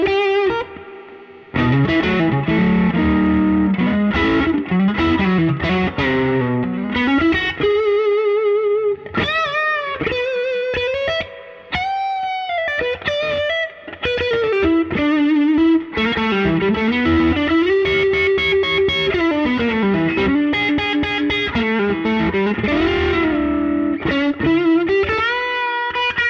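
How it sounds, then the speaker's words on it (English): Electric guitar played through the overdrive channel of an Orange amp, giving a gritty, saturated tone across a continuous run of riffs and sustained notes, loud and steady with no talking. "if I go over here to the overdrive channel, it sounds more like this"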